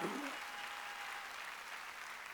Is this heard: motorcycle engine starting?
no